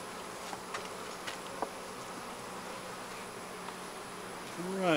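Honeybees buzz steadily around an open hive that may have been poisoned by pesticide, a dense, close swarm drone holding through the whole stretch, with a few louder passes near the end.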